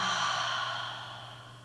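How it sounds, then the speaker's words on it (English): A single deep breath is let out in one long, steady exhale, close and soft, fading gradually with no talking. "One more big breath."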